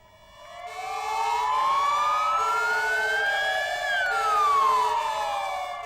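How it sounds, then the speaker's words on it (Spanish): Police car sirens wail in Plaza Mayor, Valladolid, a sweeping tone rising slowly then falling over a steady pitched horn tone, loud and continuous with no talking. "con aplausos y con sus sirenas sonando, la policía ha agradecido desde la Plaza Mayor de Valladolid"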